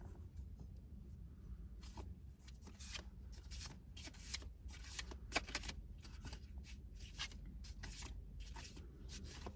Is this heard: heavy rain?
no